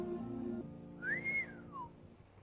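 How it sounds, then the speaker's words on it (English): A person whistles a single clear rising-then-falling note, fairly faint, over a quiet low background hum. "What'd you whistle for?"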